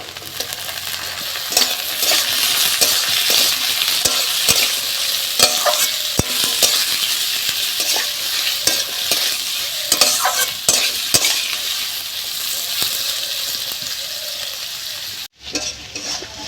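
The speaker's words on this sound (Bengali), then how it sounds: "আলুগুলো একটু ভাজা ভাজা করে নিয়েছি, ভাজা বলতে অল্প একটু 2-1 বার নেড়ে চেড়ে নিয়েছি।" Chopped potatoes sizzle in a hot pan of oil for a bitter gourd curry while a spatula stirs and scrapes them, giving a steady loud hiss punctuated by repeated clinks and scrapes.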